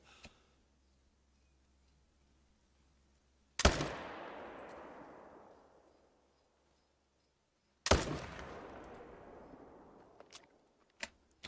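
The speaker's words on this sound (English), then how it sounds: "Glenn's already shooting at things" Two heavy high-caliber rifle shots ring out in TheHunter hunting game, about four seconds apart. Each is a sharp, loud crack with a long rolling echo, followed by a couple of small clicks at the end.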